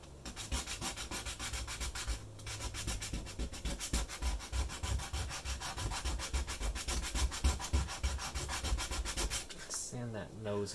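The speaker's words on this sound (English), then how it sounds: "Sand that nose off quite a bit." The nose of a Goodman SCURA 120 camera being sanded, a close, continuous rhythmic rasping scrub with no talk that stops briefly near the end.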